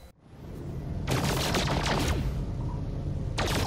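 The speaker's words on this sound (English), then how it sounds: "Your photon cannon is now upgraded and way more overpowered than anything else in the game by a long shot" Upgraded photon cannon in No Man's Sky firing rapid bursts of sharp, close energy shots, a dense volley of about a second followed by a shorter burst at the end, over a steady engine hum.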